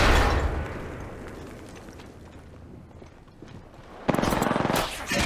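A grenade explodes in the video game Apex Legends with a loud opening blast that rumbles and fades, followed by a sharp rapid burst of gunfire near the end.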